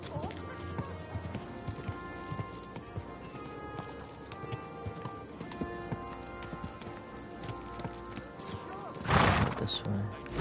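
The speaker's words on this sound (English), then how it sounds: "Easy. Hey! Good horse." Horse hooves clip-clop in a steady walking rhythm in Kingdom Come: Deliverance 2, with a loud close whinny near the end over game ambience and a player talking.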